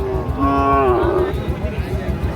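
A Sahiwal bull calf at a rural cattle market lets out one close, drawn-out moo lasting about a second, over a low rumbling background of crowd noise.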